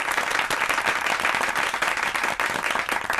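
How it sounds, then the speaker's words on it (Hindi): A school audience claps loudly and continuously for children picked to run in an inter-school marathon. The dense applause holds at an even level for a few seconds. "उनके लिए हम जोरदार तालियां बजाएंगे।"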